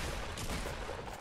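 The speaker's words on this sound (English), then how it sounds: "we're kind of getting shot at" Dense, continuous gunfire from a Fortnite battle royale match, a loud sustained fusillade of overlapping shots filling the whole moment with no speech over it.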